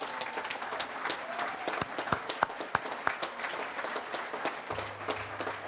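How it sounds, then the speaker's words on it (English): A banquet audience at a sports hall of fame induction gives a round of applause, a quiet, distant patter of many hands with a few sharper individual claps standing out before a low hum sets in. "give her and any female that has enhanced your life a loud round of applause"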